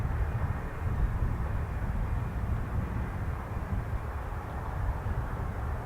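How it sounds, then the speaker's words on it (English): Engines of a Boeing KC-135 Stratotanker of the 92nd Air Refueling Wing at Fairchild Air Force Base, a steady low distant roar that holds level throughout, with no voices. "So this is the a KC-135 of the 92nd Air Refueling Wing at Fairchild Air Force Base"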